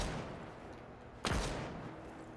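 One sharp sniper rifle shot in Rainbow Six Siege, a single loud crack about halfway through over a steady background hum.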